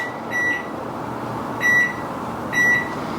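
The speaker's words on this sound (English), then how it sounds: "I'm gonna set the timer here on the microwave" Three short electronic beeps from a microwave keypad, spaced about a second apart, over a steady low background hum.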